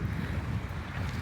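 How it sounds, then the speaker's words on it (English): Breezy wind blows outdoors near water, a steady low rumble buffeting the microphone, continuous and fairly loud without speech. "It's a little breezy."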